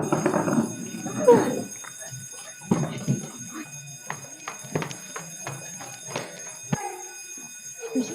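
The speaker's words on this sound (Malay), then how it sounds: "itu bunyi loceng kecemasan tu" An emergency alarm bell rings steadily throughout while people shout and talk loudly over it.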